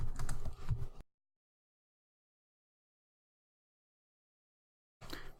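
Typing code on a computer keyboard, a brief burst of clustered key clicks lasting about a second, then a long silence before another short flurry of keystrokes at the end.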